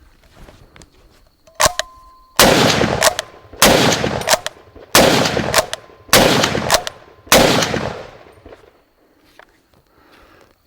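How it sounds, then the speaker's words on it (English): Five loud gunshots from a Verney Carron Speedline rifle in .308 Winchester ring out at a steady pace, each with a sharp crack and decaying echo, preceded by a faint click and light handling noise. "I thought I'd just have a few shots to start with because I've not fired it before"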